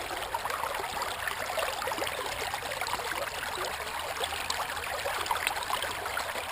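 Water runs steadily through a backyard gold sluice lined with V-mat, a continuous even rushing flow, moderately close with no voices.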